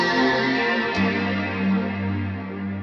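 An electric guitar runs through a lo-fi modulator and a chain of other effects, giving wobbly, chorused and distorted sustained notes with echo, with a new low note struck about a second in and ringing on steadily.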